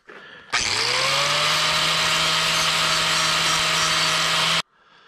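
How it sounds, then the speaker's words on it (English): A power tool grinds a fresh weld on a gas pedal, starting abruptly and running at a steady, loud, high whine with a constant low hum for about four seconds before cutting off. "Let's just clean this weld the back off a little bit real quick here."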